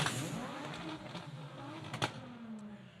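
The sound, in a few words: race cars revving loudly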